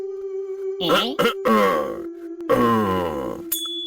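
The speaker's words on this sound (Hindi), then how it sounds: "गला साफ कर लूं।" A cartoon character in an animated Hindi moral story clears its throat with a voiced, exaggerated performance: three drawn-out, groaning rasps separated by brief pauses, close and loud, ending with a short high squeak.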